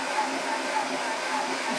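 GX CS4 high-pressure air compressor running steadily while filling an FX Impact M3 air rifle through a Tuxing 4500 PSI filter, a constant close whirring drone with no breaks.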